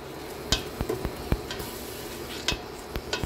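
Corned beef sautéing in a pan for spaghetti sauce gives a soft steady sizzle, broken by several distinct scraping taps of a utensil against the pan.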